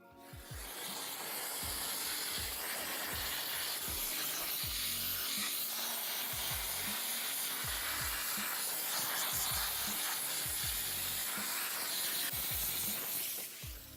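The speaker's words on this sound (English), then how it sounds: "So what I'm gonna do is hit it with some steam" A steam cleaner hisses continuously while steaming a car interior during detailing, a loud, broad jet of vapor with short low thumps and sputters scattered underneath. No voices.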